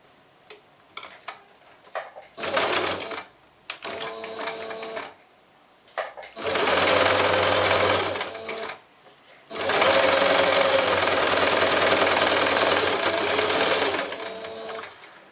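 A sewing machine runs a straight topstitch seam on a heart-patterned zip pouch, starting in short stuttering bursts before settling into long steady loud runs of rapid stitching, close up with no talk.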